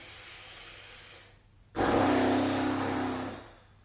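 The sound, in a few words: lip trill blowing through closed lips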